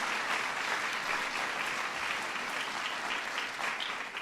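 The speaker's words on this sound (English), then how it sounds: "Give Joan a big round of applause" Audience at a National Medals of Arts and Humanities ceremony applauding Joan Shigekawa, a full, steady round of many hands clapping, loud and sustained, easing slightly at the end.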